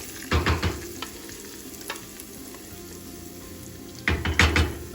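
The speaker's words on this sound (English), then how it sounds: "So you just kind of fry it up a little bit." Garlic frying in a pan for pozole rojo, a soft continuous sizzle with two bursts of louder scraping and clattering stirs near the start and end, close by and without talk.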